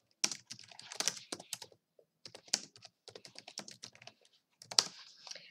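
Chat message typed on a computer keyboard during an online chess stream, quick bursts of crisp key clicks separated by short silent pauses, close and fairly quiet, with no talking.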